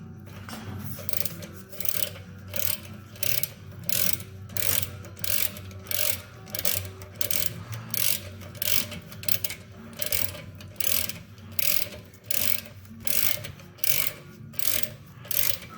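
Ratchet wrench loosening brake caliper bolts on a 2019 Jeep Grand Cherokee, a steady run of close, crisp clicking strokes in regular bursts, with no talk.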